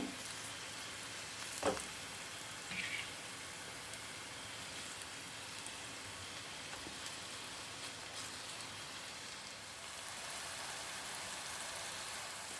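Prawns fry in a pan over a medium flame, giving an even, rain-like sizzling hiss that holds steady throughout, with a brief knock and rustle near the start.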